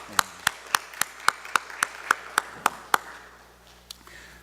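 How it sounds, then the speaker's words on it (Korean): Clapping from a church congregation during a Sunday service: about eleven sharp, evenly spaced claps in a steady unison rhythm, then a faint, scattered tail. "아버지의 은혜와 사랑 감사합니다 하는 뜻으로 다시 한번 박수를 드리겠습니다"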